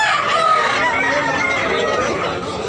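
A rooster crows loudly and close at a poultry market in Tabunok, Cebu, one long drawn-out call filling the moment with no talk over it.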